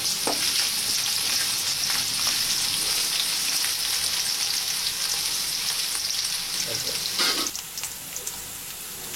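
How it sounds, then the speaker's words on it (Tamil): Finely chopped onions frying in hot oil in a steady, loud, rain-like sizzle that fills the whole stretch, with a few soft stirring knocks and no one talking. "நம்ம பொடியாக நறுக்கி வைத்த வெங்காயத்தை எண்ணெயில் போட்டு லேசாக வதக்கணும்"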